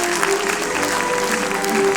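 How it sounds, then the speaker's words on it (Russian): An audience claps steadily at a concert, a dense, even patter of applause filling a hall, with faint music tones underneath. "под эти аплодисменты"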